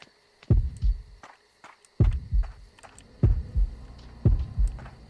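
Ominous heartbeat from the survival horror game Horrorfield: loud, close double thumps recurring roughly every second and a quarter, with a sustained eerie drone underneath and no talking.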